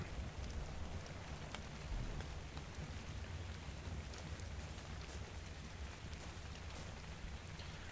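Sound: rain in the video game ARK Survival Evolved

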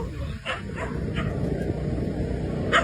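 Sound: dog barking

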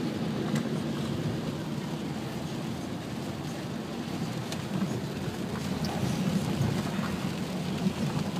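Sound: rain

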